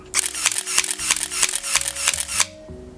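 Rapid continuous shooting from an SLR: about eight quick shutter-and-motor clacks in a steady rhythm, close and loud, then stopping abruptly.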